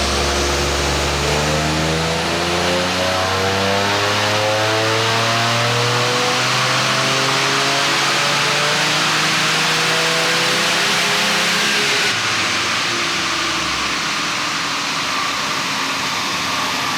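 A Toyota Yaris GR, stock from the dealership, accelerates hard on a road test, its engine note climbing steadily through the gears with rising pitch sweeps, loud and close throughout.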